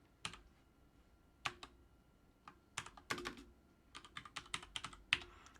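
Scattered bursts of computer keyboard typing while writing code, quiet close clicks in short uneven clusters separated by brief pauses.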